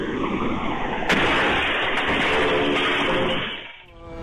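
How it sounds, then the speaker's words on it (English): A ball bursts from overpressure in a sharp, loud blast, followed by a sustained roaring hiss of rushing air that cuts off abruptly near the end. "Overpressure turned this ball into a sudden explosion"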